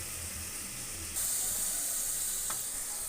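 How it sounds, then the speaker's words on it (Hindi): Carrots frying in a pan for chicken macaroni, a soft steady sizzle and hiss that swells a little partway through, faint and close with no talking, plus one brief scrape of stirring. "कैरेट को भी हमने अच्छे तरीके से फ्राई करना है।"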